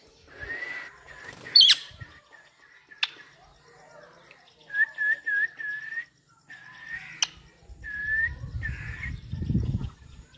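A pet parrot in a rural Uttar Pradesh village whistles in several clear, sustained tones. The whistles come in short bursts, broken by a sharp squawk. A person speaks quietly between them, and rain or rumbling noise rises near the end.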